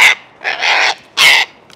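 A wild bird, crow-like, gives three harsh raspy calls, the first short, then a longer drawn-out call and a final burst, loud and close with no other sounds.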